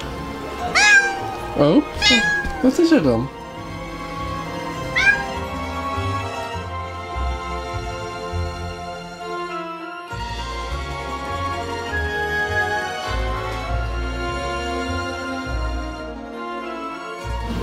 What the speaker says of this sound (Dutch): Jij zo'n zielige poes.